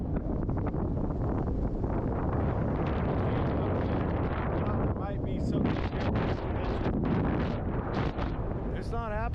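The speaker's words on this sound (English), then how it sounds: "It's blowing like crazy." Strong wind buffets the microphone high on a mountain in Alaska during a sheep hunt, a loud, continuous roaring rush with gusts that swell and ease.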